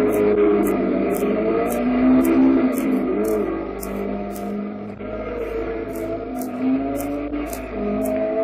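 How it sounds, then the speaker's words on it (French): Alpine race cars race on the Circuit d'Auvergne mountain track, with engines droning and rising in pitch as they run through corners at close to 100 km/h. The sound is continuous, moderately loud and mechanical. "Guichet évolue avec aisance sur son Alpine en négociant ses virages à près de 100 à l'heure."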